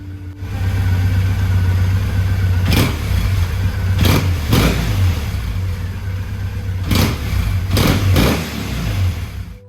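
A Triumph Twin Power motorcycle engine running loud and close, a steady idle broken by several sharp throttle blips spaced a second or two apart, with no voices.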